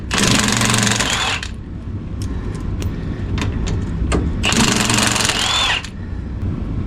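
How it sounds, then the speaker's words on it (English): An impact wrench with a chrome socket works on a skid plate of a 2021 Bronco, firing in two loud rattling bursts of about a second each, separated by quieter clicks and shop noise. "I'm using a chrome socket on an impact wrench."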